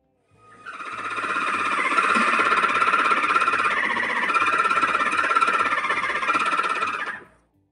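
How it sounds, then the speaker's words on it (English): A vehicle makes a high, dolphin-like squeal while turning: a loud, sustained, tonal squeak that rises in at the start, holds steady for about six seconds, then cuts off, with a low mechanical rumble underneath. "The customer said their vehicle sounds like a dolphin when turning."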